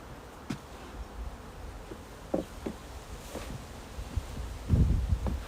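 Honeybees buzz faintly during a beehive inspection, a soft droning hum broken by scattered light rustles and knocks of frames being handled, with a louder cluster of bumps near the end.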